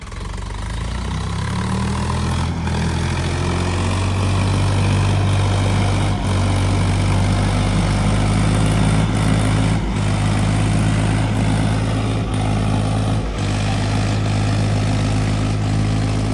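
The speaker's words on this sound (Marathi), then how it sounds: "कोरी बांधली तर ट्रॅक्टरची स्पीड बघा पूर्ण डीपमध्ये कशा प्रकारे आपला ट्रॅक्टर चालू आहे." A Swaraj 843 XT tractor engine runs loud and close in a field, a continuous throbbing diesel drone with a humming low tone and no voices.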